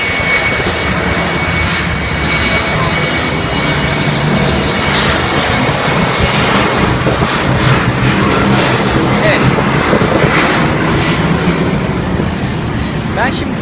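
Airplane engines at Istanbul Atatürk Airport roar as a steady, loud, broadband drone throughout, with faint voices underneath.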